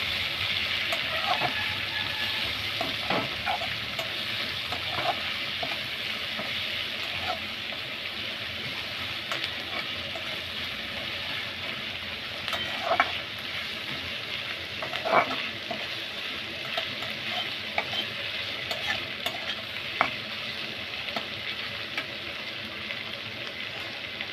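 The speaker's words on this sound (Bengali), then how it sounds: "এই পেঁয়াজটা আমি লাল করে ভেজে নেবো" Chopped onions fry in a pan for prawn curry, giving a steady, moderate sizzle throughout with scattered soft stirring scrapes and light clinks of a utensil.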